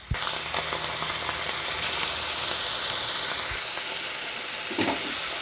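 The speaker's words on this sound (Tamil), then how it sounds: "வெங்காயம் பச்சை மிளகாவை நல்லா வதக்கிக்கலாம்" Onions and green chillies sauté in oil left over from frying fish, making a loud, steady, close hiss of sizzling with occasional stirring clicks.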